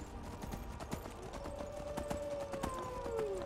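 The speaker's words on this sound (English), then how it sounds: "I'm gonna travel by horse." Horse hooves galloping through wild terrain in the video game Skyrim, a rapid, fairly faint rhythmic thudding that runs throughout under a faint tonal whine.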